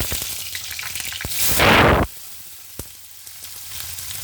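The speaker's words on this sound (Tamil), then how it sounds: "கொஞ்சமாக எண்ணெய் விட்டு எண்ணெய் சூடானதும் ஒரு ஸ்பூன் சோம்பு சேர்த்துடலாம் சோம்பு நல்லா பொரிஞ்சிருச்சு" Fennel seeds sizzle and fry in a little hot oil in a home kitchen while a gourd gravy is being made, a steady close crackle that swells into a loud burst of frying before dropping back to a quieter hiss with a few pops.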